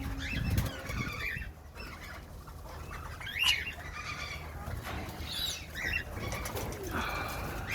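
Spotted turtle doves in an aviary, soft cooing mixed with wing flaps and other bird calls in a noisy outdoor setting, fairly faint and continuous.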